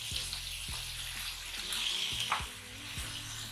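Beef pieces frying in a karahi for balti gosht, a steady close sizzle with soft clinks and scrapes from stirring.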